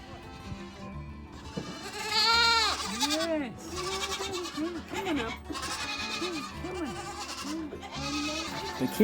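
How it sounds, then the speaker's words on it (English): A herd of about fifty goats, brought in from roaming a mountainside near Kotor, Montenegro, bleats continuously with many overlapping wavering calls, some near and some farther off. "we even tagged along as the 50-odd goats were herded in after roaming the mountain all"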